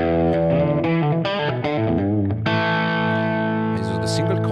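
Dry, unprocessed electric guitar played through a Fractal Axe FX3 with a Fryette D60-style amp model for a rock preset, a few sustained chords and melodic notes ringing continuously for several seconds.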